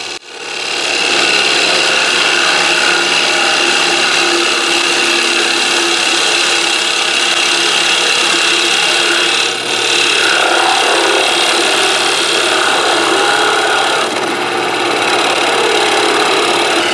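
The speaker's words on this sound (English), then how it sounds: "Here I use the drill press to cut out pockets where the pickups will go." Steady, loud whine of a drill press running continuously, with the grinding rasp of the bit cutting pickup pockets into a maple and walnut electric guitar body throughout and a brief dip midway.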